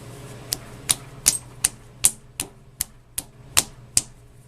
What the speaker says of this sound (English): when I push the saddle, the gib will pop out